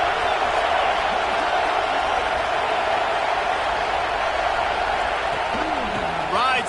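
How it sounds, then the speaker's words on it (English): A football stadium crowd roars in a sustained, dense wall of cheering and noise that rises as the defense takes the field, loud and continuous throughout with a few distant whoops near the end. "This crowd rising up, sensing that its defense needs some help."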